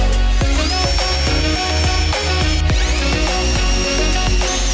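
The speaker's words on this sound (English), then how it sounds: "we're going to drill that out with a 1-inch hole so that we can easily slide our kink-free pipe through to get down to the pump" A power drill bores a 1-inch hole through basalt rock for a small water feature, its loud whining motor running continuously with rhythmic grinding pulses and a high sustained tone, close by with no talk.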